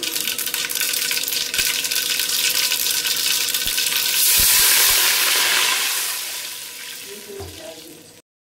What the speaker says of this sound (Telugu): ఒక కప్పు ఆయిల్, ఇంకా ఆవాలు, జీలకర్ర వేయాలి. మంచిగా గోలాలి.